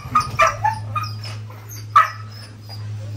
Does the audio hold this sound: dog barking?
yes